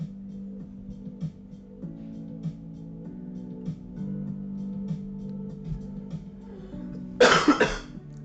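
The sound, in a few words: cough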